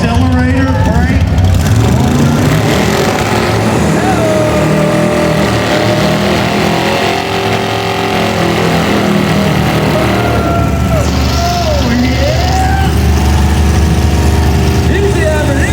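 Car at an outdoor car show driven with hand controls for accelerator and brake, its engine running steadily under a loud, busy crowd with cheering and an announcer talking throughout.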